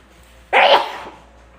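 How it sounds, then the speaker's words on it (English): A single sharp human sneeze bursts out, close and loud, then fades quickly into quiet. "Oh, I'm gonna sneeze."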